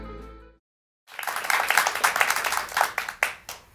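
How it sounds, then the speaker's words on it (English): A faith-filled studio audience at a Christian teaching broadcast claps steadily after a brief tonal sound and a moment of silence, with a few sharper claps standing out near the end. "Did you hear all that wonderful clapping?"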